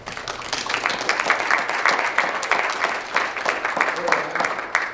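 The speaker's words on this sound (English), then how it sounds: "So give yourselves a round of applause for that." Applause from a high school jazz band and audience fills the room, a steady wash of many hands clapping at close range with some voices mixed in.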